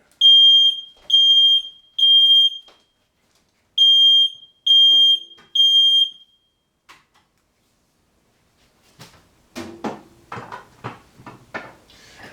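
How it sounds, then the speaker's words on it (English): Six loud, shrill electronic beeps from a smoke alarm, in two groups of three, followed after a pause by a few bumps and a short burst of speech. "it's the smoke detector going off"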